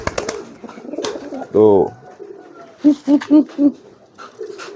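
Young pigeon squabs cooing near at hand, one rising warbled coo followed by four short rhythmic coos in quick succession, with someone talking around them.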